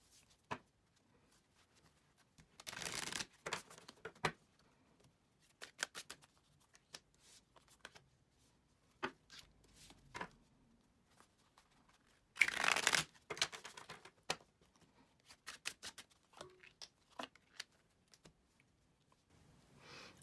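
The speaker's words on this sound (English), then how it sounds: "So let's get these decks shuffled up." Tarot card decks being shuffled, with scattered crisp riffles and soft taps, close and quiet, including two longer bursts of rapid shuffling amid short pauses.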